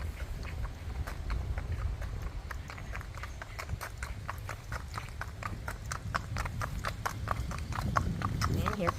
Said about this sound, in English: we're going to go hit the blacktop and let you hear the pitter-patter